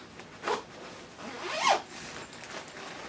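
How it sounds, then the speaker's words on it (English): Two quick zipper pulls, one short and one longer, close up and fairly loud, with quiet rustling around them. "In this part of the bag, the zipper compartment,"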